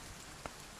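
Heavy rain falling steadily in a dense, even hiss that fills the whole moment, with one brief louder spatter midway and no voices.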